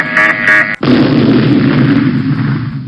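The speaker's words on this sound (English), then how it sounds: "they lose points with a bomb." Bomb explosion sound effect in a classroom PowerPoint vocabulary game, a loud boom with a rumbling tail after a brief tonal chime.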